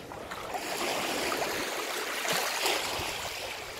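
Ocean water at high tide off Zanzibar, a steady washing and lapping of shallow water with small splashes close by, swelling slightly and then easing, with no voices.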